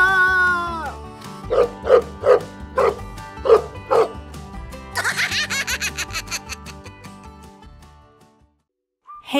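Cartoon dog barking in an animated farm scene, a run of about six sharp, evenly spaced woofs over a music backing, followed by a brighter jingling flourish.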